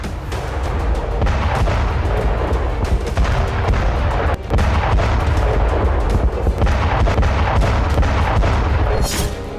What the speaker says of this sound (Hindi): यूक्रेनी फोर्स तुर्की के क्लस्टर बम से हमला कर रही है।